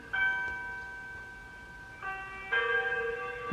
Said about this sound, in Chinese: 好像他被这个撞到都有钟声出现的